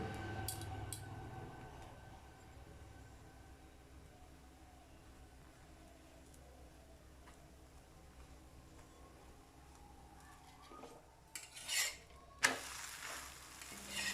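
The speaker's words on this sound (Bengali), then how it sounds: "অনবরত ওলট পালট করে করে আমাদের গোলা রুটিটা খুব সুন্দর রূপে ভাজা হচ্ছে" Gola ruti flatbread frying in a pan, a faint, steady low sizzle that continues for most of the time, then a few sharp clinks and scrapes near the end as it is turned.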